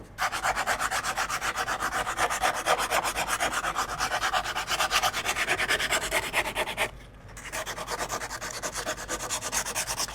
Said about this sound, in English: So, hand sanding, just make sure you get all the splinters off